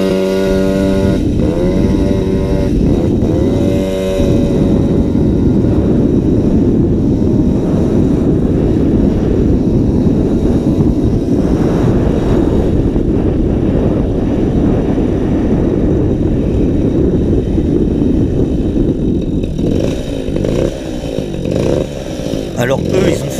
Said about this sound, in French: la mobilette a eu le temps de refroidir, je redémarre presque à froid